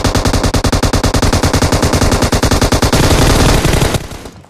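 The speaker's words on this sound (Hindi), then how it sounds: "तो उतने में मेरे को लेफ्ट से गन साउंड आती है" Rapid automatic gunfire from a battle royale video game rattles loud and close in a continuous stream of shots, then breaks off abruptly near the end.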